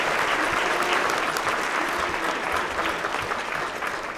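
An audience at a school district support staff awards ceremony gives sustained applause, a dense, even crowd clapping that holds at full strength throughout.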